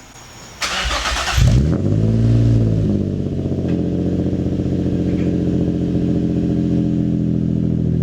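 A car with Berk test pipes and an HKS replica aftermarket exhaust starts up and revs loudly, then settles into a steady, deep rumbling idle close by.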